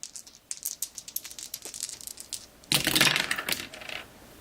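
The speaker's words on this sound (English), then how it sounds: "But they are rolling 2 dice." Two dice clatter during a Star Wars: Battle of Hoth tabletop game, with scattered small clicks and taps leading into a louder, dense rattle of the roll about midway, then settling; no one speaks.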